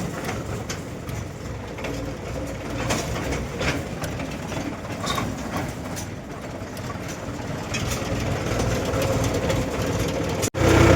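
A tractor engine runs on a village farm track, a steady low rumble that stays loud and close throughout, with no voices over it.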